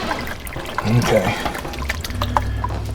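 Tap water runs and pours steadily while a raw chicken is rinsed at a sink, with a voice briefly speaking over the flow.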